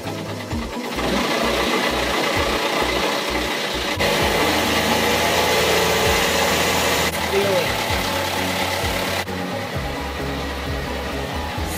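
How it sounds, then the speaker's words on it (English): A sailboat's motor starts up and settles into a steady idle, a continuous low rumbling drone running throughout with a voice speaking over it. "But anyways, Pete's gonna start the motor."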